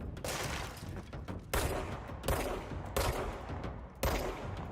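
Heavy automatic gunfire from the video game Control (Ultimate Edition, PC), sustained bursts with sharp loud onsets roughly every second, continuous rattling with no talking.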